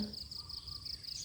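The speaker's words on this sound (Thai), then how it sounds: "ก็มีเสียงนกด้วยนะคะ" Birds chirp faintly outdoors beside a river at a weir, with a steady high-pitched twittering that sounds close to insect song and runs continuously against a low background rumble.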